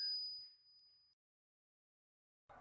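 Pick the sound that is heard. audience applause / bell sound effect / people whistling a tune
bell sound effect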